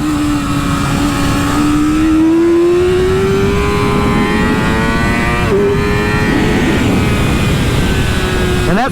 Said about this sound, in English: that's a ride on the Yamaha YZF-R6